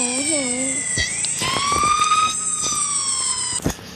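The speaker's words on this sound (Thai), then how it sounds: "เสียงรถตำรวจ" A police car siren wails in a video game, sweeping up and down in a loud electronic whine with brief shifts in pitch, accompanied by a short burst of other game noise near the end.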